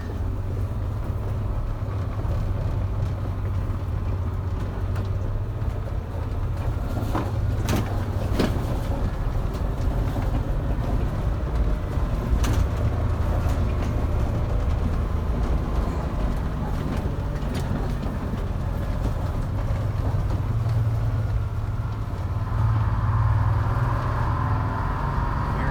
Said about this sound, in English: So going down a hill, I have it in gear. I'm just using the brake pedal to hold it back a little bit.